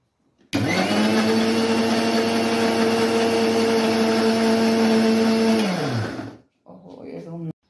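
A mixer grinder blends a spice paste of green chillies and a little water for a fish dish. Its loud, steady whirring drone runs for about six seconds, then winds down to a stop, followed by brief handling noise.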